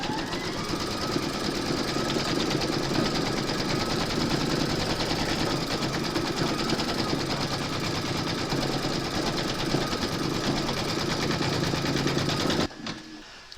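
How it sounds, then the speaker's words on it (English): An embroidery machine stitches a bunny slipper held in its hoop, a loud, steady rapid needle clatter running continuously for about twelve seconds before stopping abruptly. "Pop your hoop into your machine and stitch round number 3 to secure it."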